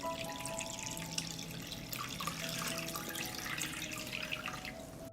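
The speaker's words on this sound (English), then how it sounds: "I pour water into the pot up to the height of the lid." Water pours steadily into a pot holding jars for pasteurizing, a quiet continuous splashing trickle heard close with no talk over it, ending abruptly.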